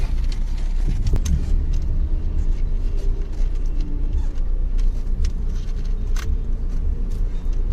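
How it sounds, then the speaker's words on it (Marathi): Road traffic noise from a jam of cars and two-wheelers, a steady loud rumble of idling and creeping vehicles throughout with no clear talk. "किती ट्रॅफिक लागले बघा खरं पूर्ण ट्रॅफिक जाम झाले"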